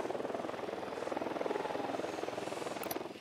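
A patrolling helicopter in Ghost Recon Wildlands, its rotor chopping in a steady rapid pulse with engine whine, holding a constant mid-distance level throughout.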